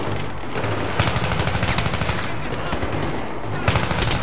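Rapid automatic gunfire in Battlefield 3, close and loud, long rattling bursts of shots in quick succession with brief pauses between volleys.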